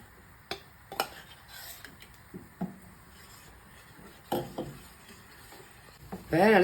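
A ragi flour mixture being stirred in a pan over a high flame, heard as sparse scrapes and knocks of a spoon against the pan over quiet background, ending in a louder burst of noise; no speech.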